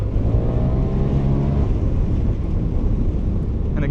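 A 2025 Polaris RZR Pro XP 4 Ultimate side-by-side with a 181-horsepower engine carries four riders over Oceano Dunes sand, a continuous loud engine roar mixed with wind rush throughout.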